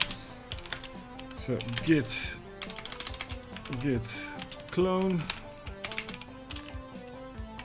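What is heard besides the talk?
typing on a computer keyboard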